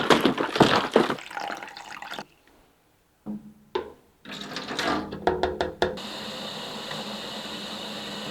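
A small water pump moves water mixed with GT Foliage Focus plant fertilizer, with splashing, pouring and knocking sounds that give way to a steady, even rushing of pumped liquid.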